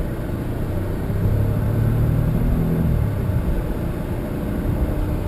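A Mercedes-Benz E320 W210 sedan with high mileage climbs uphill at three-quarter throttle, its engine giving a steady, loud low rumble that swells slightly mid-way, heard from inside the cabin without talk.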